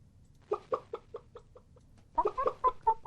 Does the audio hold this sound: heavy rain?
no